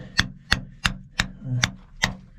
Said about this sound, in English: I'll bang these in, see if I can break this big bit off